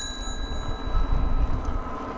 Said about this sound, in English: I've got a new bell